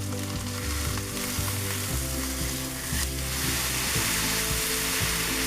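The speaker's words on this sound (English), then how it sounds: "let that fillet sizzle in that butter for about 2 minutes before you flip it" A fish fillet sizzles in butter in a hot pan, a loud constant frying hiss with crackling spits, joined by low rhythmic tones and occasional clicks, with no voices.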